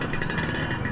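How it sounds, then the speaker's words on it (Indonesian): A classic Vespa scooter with a noisy exhaust climbs a narrow mountain road in first gear, giving a steady, close, buzzing engine drone. "knalpot berisik gitu ya"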